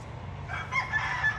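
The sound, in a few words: chicken crowing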